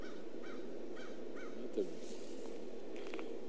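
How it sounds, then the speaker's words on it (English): A big crow caws four times in a regular rhythm, somewhat distant outdoors, over a steady background murmur, followed by a few fainter bird calls. "there's a big crow"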